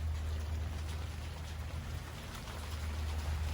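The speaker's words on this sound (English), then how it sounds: "Comes the rain, it feels great." Rain falls steadily outdoors, a soft, even hiss with a low rumbling undertone that stays constant and moderately faint, with no voices.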